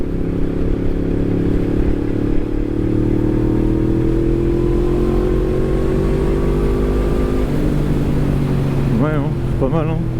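Yamaha MT-10 Stage 1 sport motorcycle tuned to 183 hp, pulling hard in a low gear with its engine note rising steadily to around 6000 rpm, loud and close, with a short surge of revving near the end.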